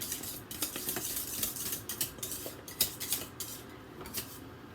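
Spoon scraping and clinking against a pot while chocolate cream pie filling is stirred as it thickens near a boil, steady irregular clatter at close range with a soft bubbling beneath.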